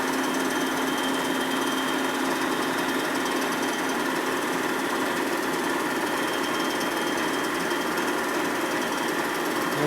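A machine cutter machining a Harley shovelhead motor case at about 950 rpm, a loud, steady, dense chattering whine that runs without a break, close up.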